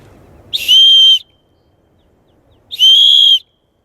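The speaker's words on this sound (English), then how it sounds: "So the whistle works nice and loud." Two loud, shrill blasts from an ESEE survival whistle, each about half a second long, separated by a short pause, ringing out clearly against a quiet background and echoing off canyon walls.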